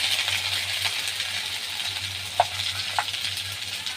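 Chilli powder, turmeric and other ground spices frying together in a pan while being stirred for a Bengali rohu fish curry with drumsticks and potatoes, a steady soft sizzle with a couple of sharp utensil clinks, no talk.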